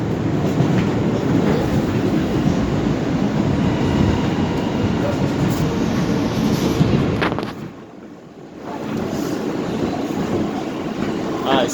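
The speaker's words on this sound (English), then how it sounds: "It was the old train that like the one of the best old trains." A vintage New York subway train from the Transit Museum's old fleet rumbles past close by, a steady loud roar that drops away briefly near the end before the rolling noise returns.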